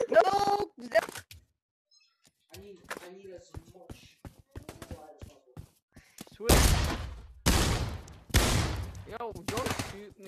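Shotgun blasts in a multiplayer shooter video game: four heavy, booming shots fired in quick succession near the end, after stretches of excited voices talking and shouting.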